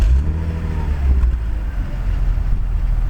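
A car that still has its stock exhaust back box starts up and settles into a steady, fairly tame low rumble, close and continuous throughout.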